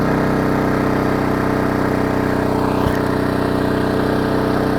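A 2500-watt inverter generator runs steadily on eco mode at low load, a smooth continuous engine hum with a faint whine, close and alone, with one brief click near the middle.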